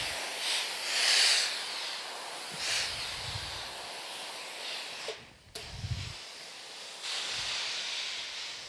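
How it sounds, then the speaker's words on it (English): A steam iron hisses bursts of steam onto fabric, several soft breathy hisses rising and fading over a quiet background, with a brief clunk partway through. "Now you can go in with a little bit of steam if you want."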